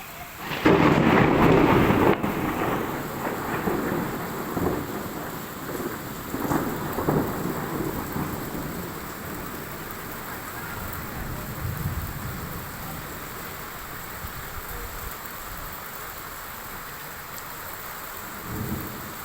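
A rainstorm after a long hot spell: a loud thunderclap rumbles at the start, then steady, even rainfall patters on surfaces and slowly fades quieter, with no voices.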